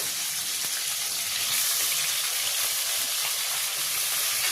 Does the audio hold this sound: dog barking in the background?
no